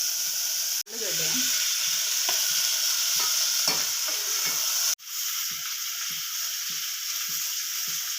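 Vegetables including brinjal, potato and field beans fry in a pan for sambar, a constant loud hiss of sizzling oil with regular soft scrapes and knocks of stirring.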